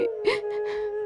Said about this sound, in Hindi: तभी उसे रोने चिल्लाने की आवाज सुनाई देती है।